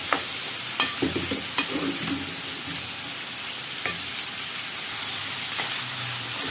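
Lamb liver, kidneys and heart frying in melted fat, a dense continuous sizzle with a few spattering pops and soft clatters near the start, close and steady.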